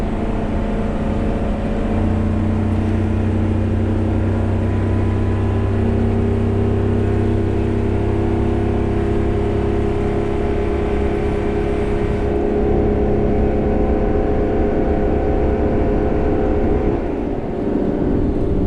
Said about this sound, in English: a vehicle this size is not going to accelerate like a car, but feels pretty good